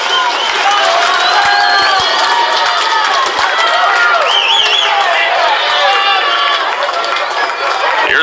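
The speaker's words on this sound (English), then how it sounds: "Crowd trying to rally behind Mateo and the Marauders." A baseball stadium crowd roars and cheers loudly and continuously for the home team with the game down to its final strike, a dense, sustained wall of voices and whistles with scattered claps.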